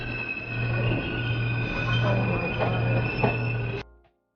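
A New York City subway train rumbles and hums steadily with a high-pitched electrical whine, then the sound cuts off abruptly near the end.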